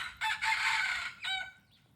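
Rooster crowing nearby, one loud drawn-out crow with a short trailing final note, heard alone against faint background noise.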